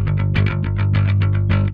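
Parallax X bass pedal with its mid distortion engaged, a run of distorted bass guitar notes played in steady rhythm, gritty and compressed, ending abruptly.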